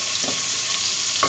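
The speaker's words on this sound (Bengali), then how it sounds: "এখন চিংড়ি মাছটা আমি এপিট ওপিট করে হালকা 1 মিনিটের জন্য ভেজে নিচ্ছি।" Prawns shallow-frying in a hot pan for about a minute while being turned from side to side give a steady, close sizzling hiss.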